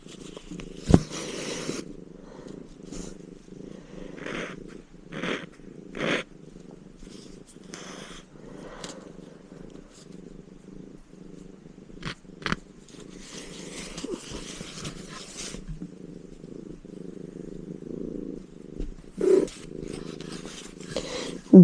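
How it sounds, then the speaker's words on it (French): A cat purrs steadily and close up beside someone doing cross-stitch on a large Lotus canvas, the low rumble continuous throughout with occasional soft rustles and brief clicks over it. "je ne sais pas si les ronronnements vont s'entendre à la caméra"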